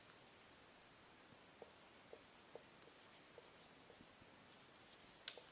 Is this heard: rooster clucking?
no